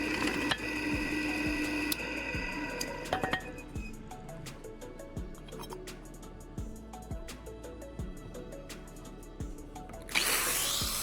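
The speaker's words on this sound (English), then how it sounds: "I'm drilling a hole precisely at the marked spot." Loud power-drill drilling through metal with repeated short bursts and clicks, continuous machine whine throughout, ending in a harsh grinding surge.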